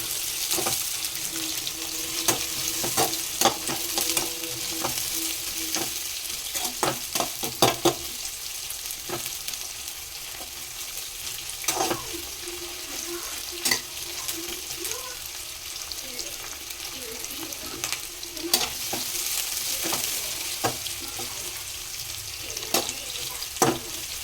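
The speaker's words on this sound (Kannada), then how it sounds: "ಈರುಳ್ಳಿ ಸ್ವಲ್ಪ ರೋಸ್ಟ್ ಆಗಂಗೆ ನೋಡ್ಕೋಬೇಕು" Onions roast in a pan for a homemade pepper chicken, with a steady, close sizzle throughout and repeated sharp clicks and scrapes from stirring at irregular intervals.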